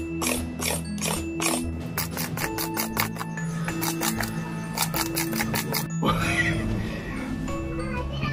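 A sugarcane machine runs on peeled black sugarcane, giving off a rapid rattling, ratcheting clatter of gears in fast bursts. The clatter changes to a rougher grinding rush near the end, loud and close.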